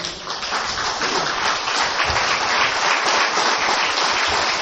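Spanish-speaking church congregation giving an applause to the Lord during a sermon on faith: a thick, continuous roar of many people clapping at once, even and full for the whole stretch, with no voices rising above it.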